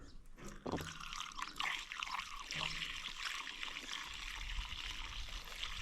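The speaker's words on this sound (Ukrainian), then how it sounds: "Заливаємо бензинчика і пробуємо завести його." Petrol poured into an 8-litre enduro motorcycle fuel tank outdoors, a faint continuous trickling and gurgling pour close by with no speech.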